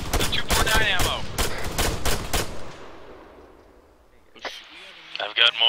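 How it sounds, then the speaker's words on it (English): Gunfire in the ArmA 3 military video game, apparently burst fire from an M249 machine gun. Several sharp loud shots come in quick succession with voices in the clip, then it quiets before a few more distant pops and speech return. "Burst fire, do not waste that 249 ammo."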